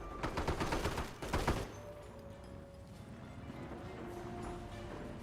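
Anti-tank guns firing at tank traps in the World War II strategy game Company of Heroes, a quick rattling cluster of shots in the first second and a half, then a quieter battlefield hum.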